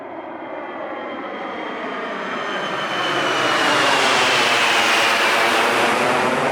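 A big Indian Air Force Gajraj military transport aircraft's engines roar loudly and steadily, building in intensity as it takes off from Thoise air base, a broad rushing drone with a high whine on top.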